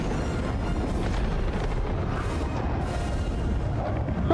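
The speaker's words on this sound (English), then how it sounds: "Oh wait, it did explode midair." A dense, continuous roar of explosions and rumbling blasts fills the scene in the video game Helldivers, loud and sustained with no talk over it.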